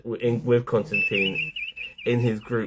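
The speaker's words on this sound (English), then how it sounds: "Pardon my phone, I do apologize for those beeps." A phone gives off a thin, high electronic beep tone that warbles briefly, sounding under and between a man's ongoing speech.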